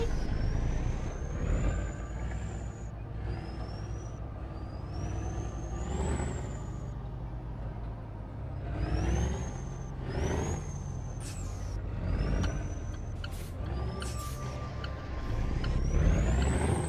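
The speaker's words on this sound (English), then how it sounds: "Just listen to the sounds of the truck." A Peterbilt 579 stretched-chassis truck driving around the block in a truck video game: a steady low diesel rumble with hissing air-brake releases and rising whistle-like tones on top, continuous and fairly close.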